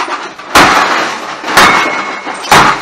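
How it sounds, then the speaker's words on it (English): An old VCR is smashed in a smash room with three loud, heavy crashing blows about a second apart, each a sharp impact followed by a short clattering decay, close and with no talking. "What are you smashing? Is that a VCR?"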